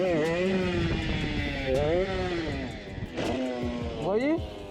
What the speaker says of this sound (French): On va laisser la voiture passer.